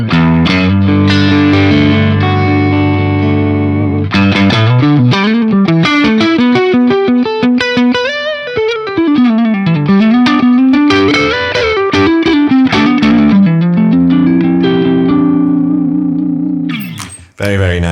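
An electric guitar plays through a Laney Lionheart Loudpedal with a dry tone and no reverb or delay: loud, distorted sustained notes, then fast melodic runs and bends, cutting off abruptly near the end.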